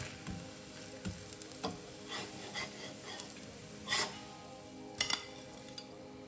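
Adai dosa from an instant adai mix cooks on a hot pan, giving a steady sizzle with occasional scraping and light clinks from a spatula.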